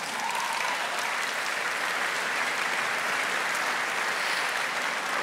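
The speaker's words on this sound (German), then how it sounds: "ich glaube, da kann man mal einen Applaus geben." A large audience at a gala awards ceremony breaks into steady, dense applause, an even wash of clapping that holds at a moderate distance throughout.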